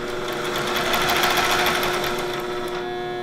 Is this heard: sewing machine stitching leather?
yes